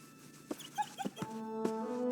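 In the Fable 3 video game, a dog gives a few short, soft whimpers and yips, followed by a sustained whining tone, all fairly quiet and close.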